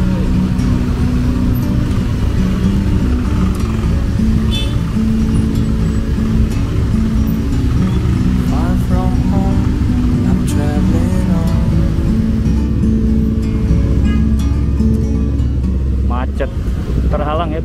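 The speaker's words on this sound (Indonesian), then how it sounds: "bis keluar terhalang sama angkot tuh" A bus pulls out of the muddy Pasar Lembang Ciledug bus terminal while an angkot minibus blocks its way, a continuous engine rumble with traffic and wind buffeting the microphone, under someone speaking throughout.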